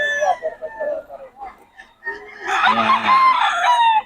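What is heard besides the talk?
stag roosters, local banded, crowing and clucking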